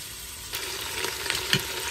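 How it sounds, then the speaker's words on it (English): Oxtail browns in a hot pan with a constant crackling sizzle, close up, and a few louder pops and stirring scrapes stand out near the end. "Once this side gets done browning, then we'll be ready to go to the next step."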